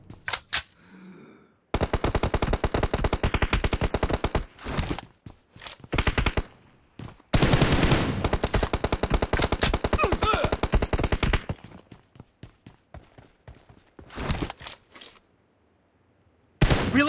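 Automatic fire from an M416 assault rifle in a video game: loud, close, rapid bursts of shots separated by short pauses, with one long sustained burst near the middle.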